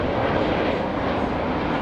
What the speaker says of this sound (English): a JetBlue A321, exiting the runway